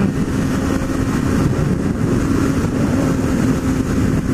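A group of four Honda Hornet motorcycles cruising on the Fernão Dias highway produce a continuous low engine drone mixed with wind rush, steady and close, with no talking.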